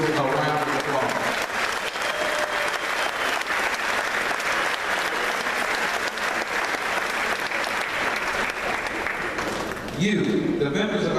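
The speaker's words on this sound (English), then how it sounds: "Can we give these individuals a round of applause?" Sustained applause from a large assembly audience, a dense steady clapping wash that carries on for about ten seconds before briefly easing, with a voice returning at the end.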